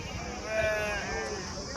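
Goats bleating at a busy livestock market, one wavering bleat standing out near the middle over a noisy crowd background, with people talking around the animals.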